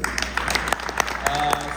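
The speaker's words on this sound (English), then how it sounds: "A hand clap for them, please" Brief clapping from attendees at a memorial and tribute service, a short patter of hands heard under a speaking voice.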